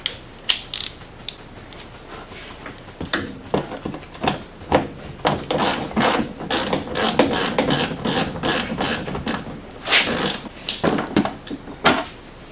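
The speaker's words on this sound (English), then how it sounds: "It takes an 8mm socket to go around and remove all these bolts on this clutch cover on." Ratchet with an 8mm socket backing out the clutch cover bolts on a Polaris RZR 900S during a QuadBoss clutch kit install: loud, close bursts of rapid metallic clicking, repeated bolt after bolt.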